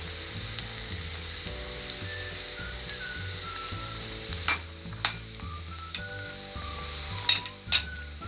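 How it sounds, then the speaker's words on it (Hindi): Dal moong cooking in a hot pan: steady oil sizzle with garlic frying, spoon scraping and stirring, and a few sharp metallic clinks of utensil on pan, close and alone with no talk. "अब इसको अच्छी तरह फ्राई करूंगी।"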